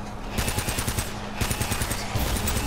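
Rapid automatic gunfire in the video game Uncharted: Drake's Fortune, dense loud bursts of shots rattling continuously in quick succession with no talk.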